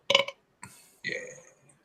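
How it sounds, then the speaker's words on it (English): A loud, enthusiastic burp erupts from someone during a gaming talk show, followed by a second, longer guttural belch after a short pause; no words are spoken. "I appreciate the enthusiastic burp"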